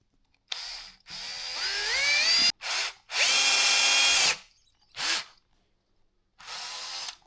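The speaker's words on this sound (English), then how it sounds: "now take a bigger drill" A power drill with a bigger bit widens a hole in a 6 mm pipe, whirring in five separate bursts of varying length, its motor pitch rising and falling as it bites in, with brief silences between.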